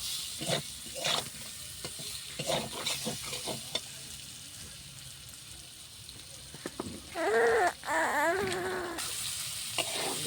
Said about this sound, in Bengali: সুন্দরভাবে কষিয়ে নিলাম নাড়াচড়া নাড়াচড়া করি